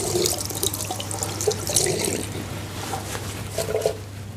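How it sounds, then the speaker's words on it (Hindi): Tap water runs steadily from a faucet while hands are washed for ablution, a continuous close splashing flow with brief louder spatters and no talking. "हाथ धो ले किसी नल के नीचे"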